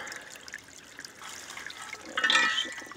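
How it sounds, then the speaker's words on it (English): Water running hard in a creek bed that is otherwise dry upstream makes a steady rushing, trickling flow, with a brighter splashy burst near the end and no talk. "there's water running like crazy"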